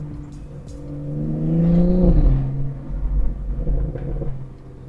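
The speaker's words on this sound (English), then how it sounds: "the downshift blips are definitely working. They sound way more aggressive than before" BMW M240i xDrive with a B58 engine and XHP Stage 3 transmission tune, engine revving up then dropping sharply in a quick downshift blip, followed by deep rumbling engine drone with small pulses, heard close and fairly loud.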